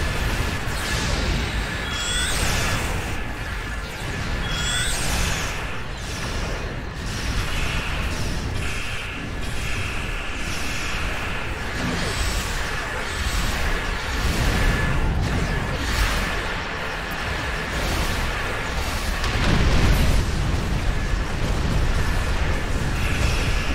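Starship taking weapons fire in Star Trek Online: sustained rumbling blasts, booming impacts and whooshing energy shots over a steady bridge hum, with voices speaking at times.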